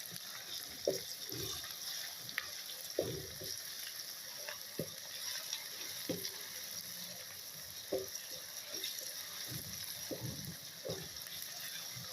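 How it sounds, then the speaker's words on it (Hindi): Garlic-ginger paste and onions frying in a pan, a soft continuous sizzle with repeated scraping and clicking stirring sounds, fairly quiet and close. "इसको भी प्याज के साथ अच्छी तरह ब्राउन करेंगे"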